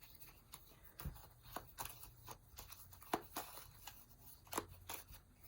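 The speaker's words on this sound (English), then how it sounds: "I'm just going to shuffle these and I'll pull 3 from them." Tarot cards being shuffled by hand at close range, a quiet run of soft riffling and snapping bursts recurring roughly every half second over a low steady background hum, with no talking.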